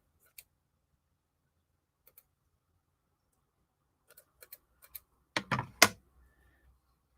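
Scissors trimming a fabric hem while making a tri-fold journal: scattered faint clicks, then a few louder, close snips in quick succession before quiet returns.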